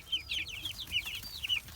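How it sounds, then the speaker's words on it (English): Meat chickens in their pen give a quick run of soft, repeated clucks, close and fairly quiet over low background rumble. "The meat birds are all in here."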